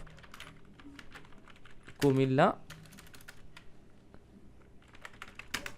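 Quiet, rapid clicks from a computer keyboard patter on and off while someone types text into an HTML editor. A short voice is heard partway through.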